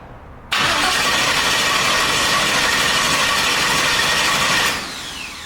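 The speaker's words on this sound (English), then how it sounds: "after weeks of fucking with this car, let's see if it'll actually start." A twin turbo Chevrolet Nova engine cranks and starts, bursting into a loud, steady roar up close that holds for about four seconds before dropping away.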